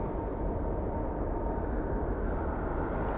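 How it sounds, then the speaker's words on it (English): A Cargolux Boeing 747-8 departs from the south runway at LAX, its distant jet engines making a steady, broad low roar that holds even for a few seconds, with no voices. "Cargolux departing in the south runway."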